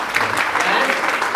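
Audience applause on a TV makeup show, a steady dense patter of clapping filling the whole short moment with chatter mixed in.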